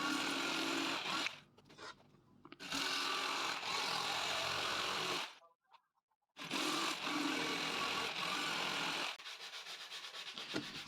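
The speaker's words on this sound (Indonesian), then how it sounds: "Kita akan masih terus melakukan proses pemotongan untuk multiplex ini." A power tool cutting multiplex plywood for a set-top box shelf, a steady loud buzzing rasp that runs for long stretches, stops briefly twice, then continues more softly at the end.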